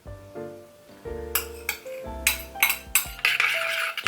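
Metal spoon stirring soy sauce and oyster sauce in a small dish, a quick series of bright clinks and scrapes against the bowl building in density, close and clear with no talking.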